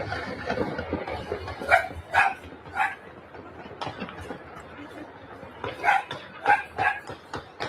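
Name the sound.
dog barking in a played video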